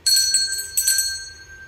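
A small bell rings out in a live stage radio play of It's a Wonderful Life, two bright clear strikes whose tones hang and slowly fade, with no talking over them.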